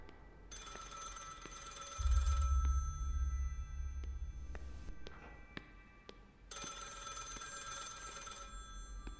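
In the video game Project Looking Glass, a telephone rings in two bursts a few seconds apart, each a buzzy electronic trill over a low droning background, moderately loud and nearby.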